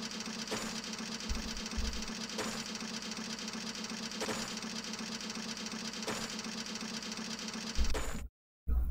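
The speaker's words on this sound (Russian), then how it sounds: "Я надеюсь, не сильно слышно было вентилятор на фоне" An electric fan runs steadily in a room, giving a constant whirring drone with a low hum and faint regular pulses, then cuts out briefly near the end.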